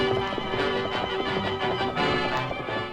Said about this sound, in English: No hoofs had ever beat the plains like those thundering hoofs of the great horse Silver.